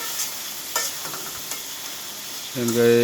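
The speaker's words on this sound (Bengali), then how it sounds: "ঢাকনাটা উঠাই একটু নেড়ে ছেড়ে দিলাম" A pan of food, covered to cook through, is uncovered and stirred: a few soft scrapes and light sizzling come close up, and a steady low hum rises near the end.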